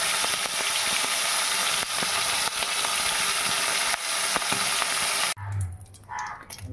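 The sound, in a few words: marinated folui fish frying in oil in a wok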